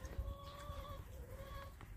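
Quiet clucking from chickens nearby, soft repeated calls over a low rumbling background.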